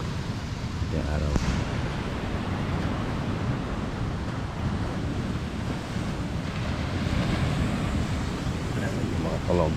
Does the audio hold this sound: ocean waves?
yes